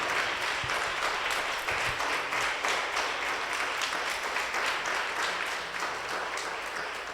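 A church congregation applauding and acclaiming God, sustained dense clapping from many hands filling the room, steady and loud with faint voices mixed in.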